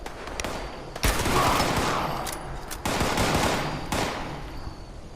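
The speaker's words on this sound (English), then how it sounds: "That's definitely automatic fire." Automatic gunfire in the Fallout 76 video game, several bursts of rapid shots that each start sharply and roll into a sustained rattle, fairly loud, with no speech.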